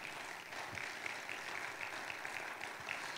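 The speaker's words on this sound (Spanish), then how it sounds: "Le damos el primer aplauso al Señor esta tarde" Congregation applauding in a church, a dense, even patter of clapping that carries on steadily throughout, fairly faint and distant.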